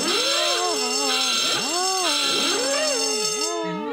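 A contestant's buzzer sounds on the comedy quiz show QI as a loud, warbling electronic tune of rising and falling tones that plays continuously for about four seconds.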